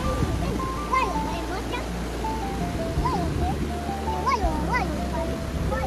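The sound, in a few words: stream water flowing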